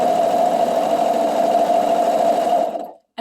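A serger runs steadily while stitching the curved hem of a circle skirt, a loud, continuous mechanical whir that holds for nearly three seconds and then stops abruptly.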